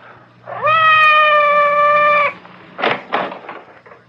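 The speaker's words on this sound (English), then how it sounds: "It sounded like Madame's cat, Francois." A cat meows in a long, drawn-out, close wail outside a door as a radio drama sound effect, followed by two short rustling knocks and faint scuffs.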